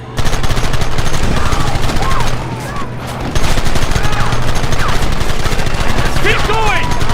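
Gunfire in the Red Dead Redemption video game: loud, rapid bursts of automatic fire pound continuously with a short lull, mixed with shouted in-game voices and battle noise.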